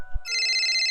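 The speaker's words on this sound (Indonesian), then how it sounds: "Tak lama kemudian, HP saya berdering." A mobile phone rings with a bright electronic ringtone, loud and close, starting abruptly after a brief low thump and sounding steadily on its own.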